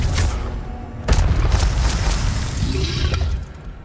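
The Incendio fire spell is cast in the Hogwarts Legacy video game, giving a loud burst with sharp crackling impacts over a dense rumbling background of combat effects.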